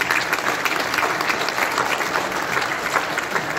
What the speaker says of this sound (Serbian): pozdravimo aplauzom, jer taj aplauz njima mnogo znači